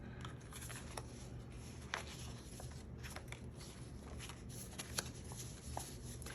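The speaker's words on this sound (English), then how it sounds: "Go ahead and take this cash out." Paper cash banknotes pulled from a stuffed budgeting envelope make a dry, close rustling and flicking, with several crisp snaps over a continuous soft shuffle.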